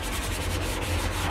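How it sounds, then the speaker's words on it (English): A fine sanding sponge pad rubs steadily across a wooden door, giving a close, continuous scratchy hiss with a faint back-and-forth rhythm. "it's like a little fine sanding pad with sponge on"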